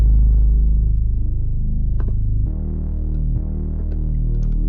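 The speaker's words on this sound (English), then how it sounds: "I just made the bass wide, added some distortion, and I EQ'd it a bit" A simple wide, distorted and EQ'd bass synth from an FL Studio beat plays as loud, deep sustained notes that change pitch partway through, with a few faint higher ticks above it.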